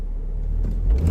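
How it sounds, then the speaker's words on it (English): A Camaro RS V6 launches hard with wheel spin, the engine a loud, close, low roar that swells toward the end of the brief burst. "We got some wheel spin on that one."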